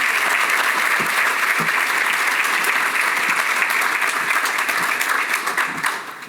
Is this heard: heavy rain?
no